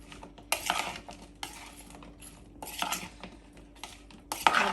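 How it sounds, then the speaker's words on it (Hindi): Cut peppers and onions being tossed with oil for chicken shashlik, with utensils clinking and scraping against a bowl in several bursts, close and moderately loud, with no talking. "ये पेपर और अनियन को मैंने काट लिया है, जो शाशलिक के लिए हमें चाहिए होती हैं। बस थोड़ा सा ऑयल डाल के इसको भी हम अच्छे से मिक्स कर लेते हैं।"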